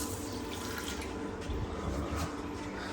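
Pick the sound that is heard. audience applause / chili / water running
water running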